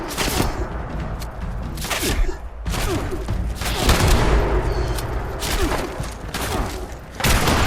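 Sniper rifle gunfire in Fallout 76 rings out as a series of sharp, booming shots scattered irregularly across the clip, loud and close, mixed with game combat noise.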